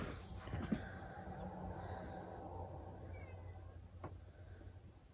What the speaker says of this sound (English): Can you hear my cat yelling at me?